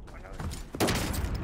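Gunfire rings out in a military shooter video game, a sharp burst of shots cracking over the game's ambient noise and lingering in a noisy tail.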